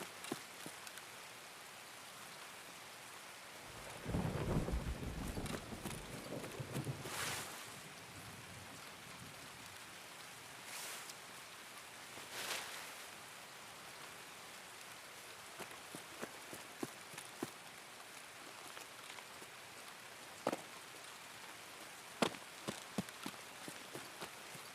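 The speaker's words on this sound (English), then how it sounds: "This is one of the few times that the rain is good for me." Steady rain hisses across the whole stretch in an Escape from Tarkov match, with occasional sharp clicks and a brief louder rumble early on, all fairly quiet and without talk.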